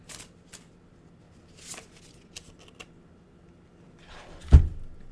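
Oracle cards are shuffled by hand in soft, scattered riffling bursts, close and fairly quiet, ending with one sharper thump as the deck is knocked together.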